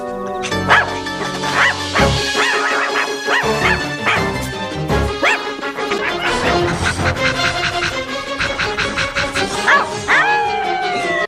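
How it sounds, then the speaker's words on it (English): A live balloon dog from the film Killer Klowns from Outer Space yips and barks over a busy, loud orchestral horror-comedy score, the dog sounds woven through continuous music. "the scariest one of the bunch actually makes a live balloon dog to sniff out their victims"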